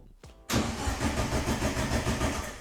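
A car engine cranks over and catches, a sudden loud onset of starter-driven chugging that continues steadily at close range with no talk.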